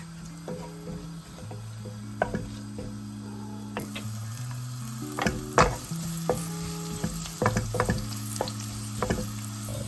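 Cumin seeds and two dry chillies frying in hot olive oil, a steady close sizzle with scattered crackles and spoon-stirring scrapes, no voices.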